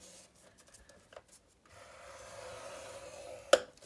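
A tool scores a line into an 8 by 11 cardstock base for a Stampin Up gift box, giving a soft, faint scraping drag that ends in a small tap, with light handling noises just before.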